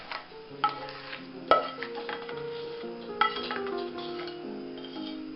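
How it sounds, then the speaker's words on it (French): Utensils scrape and clink against a saucepan as a dacquoise mixture with hazelnuts is stirred back into the pan, giving soft irregular metallic taps and ringing clinks at close range. "on remet la totalité dans la casserole tout en remuant"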